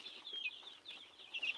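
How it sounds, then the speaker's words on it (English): Two-week-old chicks peep in high, rapid chirps, a soft continuous chatter of several young birds close by with no talking. "I'm having these chickens here. These are 2 weeks old chickens."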